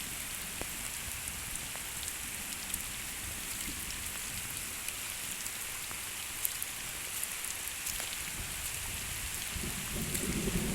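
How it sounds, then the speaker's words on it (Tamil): Heavy rain drums steadily on fields and coconut trees with a loud continuous hiss, while low rumbles of thunder roll underneath; no one speaks. "சரியான மழை"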